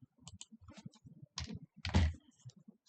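Keys tapped on a computer keyboard in an irregular series of close clicks, with a couple of heavier strokes near the end, set against a quiet room.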